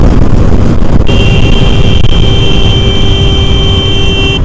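A Hero Xtreme 125R motorcycle runs flat out at top speed in fifth gear on a highway, its engine a loud steady high whine under heavy wind roar, recorded from the rider's position.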